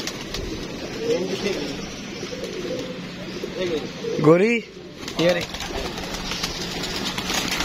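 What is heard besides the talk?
pigeons cooing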